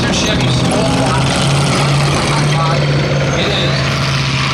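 An M5 light tank, originally twin Cadillac V8s and now re-engined with two Chevy small-block V8s, drives at an armor parade: a loud, steady engine drone with a low tonal hum and broad rumble throughout.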